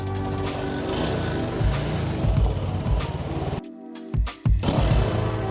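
Engine of a Honda PCX160 scooter fitted with a new Yuminashi dual exhaust, idling loud and steady with low rumbling pulses, cutting out briefly and then firing up again.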